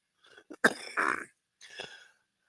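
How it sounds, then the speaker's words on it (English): A few sharp, throaty coughs in quick succession, close up, with a short pause before a final rougher cough. "Yeah, I'm still coughing a little"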